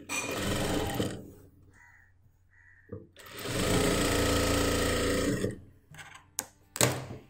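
Sewing machine stitching the side seam of a churidar made from nighty cloth, with two long bursts of fast, steady whirring close up, separated by a pause with faint tones, then a few short clicks and taps.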